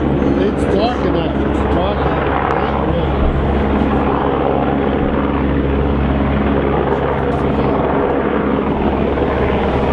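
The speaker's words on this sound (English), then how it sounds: "It's like a news helicopter." A news helicopter passes overhead with a steady, loud rotor drone filling the whole stretch, while people talk over it.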